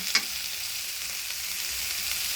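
Mixed vegetables sautéing in a pan give off a steady, even frying hiss, with one sharp utensil click near the start and no voices.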